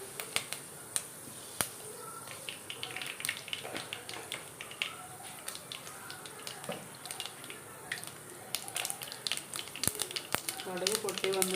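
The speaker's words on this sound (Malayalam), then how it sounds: "ഉലുവ പൊട്ടി വരുന്നുണ്ട്." Fenugreek seeds splutter in hot oil while a citron pickle is being cooked. Faint, scattered pops and crackles come close together and grow slightly busier toward the end.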